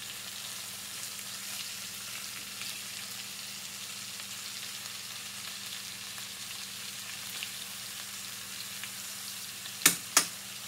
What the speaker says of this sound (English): I'm gonna sear this side